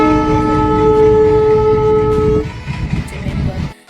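A train at a railway station sounds a long, loud steady horn tone over the low rumble of the rails. The horn cuts off partway through and leaves the rolling clatter of the train.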